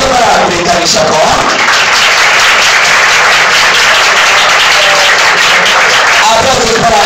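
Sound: crowd applause for Cristal y Chacoa

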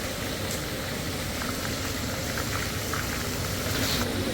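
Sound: snakehead fish (varal) frying in a toddy shop kitchen

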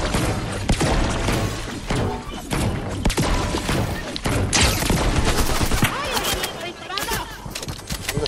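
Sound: gunfire in the video game Fortnite

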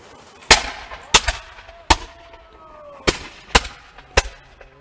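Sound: black powder muskets firing in a battle reenactment

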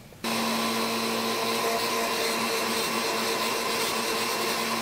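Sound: blender blending honey and yogurt face mask

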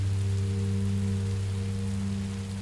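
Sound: rain falling in the video game Minecraft Story Mode

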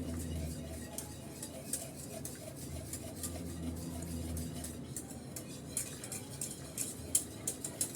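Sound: custard being stirred continuously in a pot

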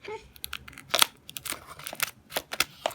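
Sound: cutting a package open with scissors

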